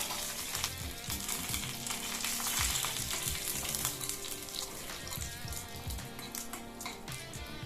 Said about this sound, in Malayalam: അതിലേക്ക് 1 തണ്ട് കരിവേപ്പിലയും 1 വറ്റൽമുളകും കൂടി ഇട്ട് ഒന്ന് മൂപ്പിച്ചെടുക്കാം